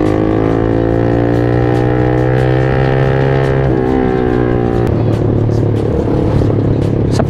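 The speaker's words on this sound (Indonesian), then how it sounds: "Knalpot bacot jangan ditiru dah." A modified Yamaha Jupiter MX motorcycle with a loud aftermarket exhaust drones and revs up close, its engine note rising and shifting with sharp crackles on the ride.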